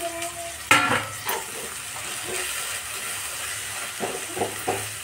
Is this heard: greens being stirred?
yes